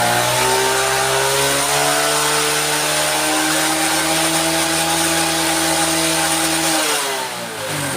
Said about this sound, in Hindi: ये आप देखो मैं एक्सीलेटर दे रहा हूँ।